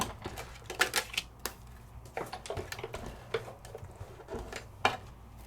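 A Sizzix Big Shot die-cutting machine cranks a die and cut plate stack through its rollers, producing quiet, irregular clicks and ticks in a loose rhythm.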